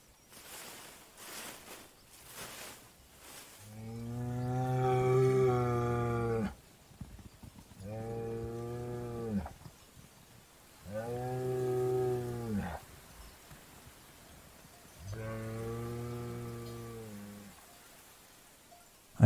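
Highland cattle in Scottish grassland moo four times in long, deep, harmonic calls, each lasting two to three seconds, separated by short pauses. The calls are loud and close, with no talking.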